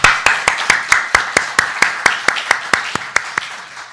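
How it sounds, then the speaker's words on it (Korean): Church congregation clapping together in unison, about fifteen sharp, evenly spaced claps in a steady rhythm, loud and close in a room, with no talk over them. "박수 한번 하겠습니다"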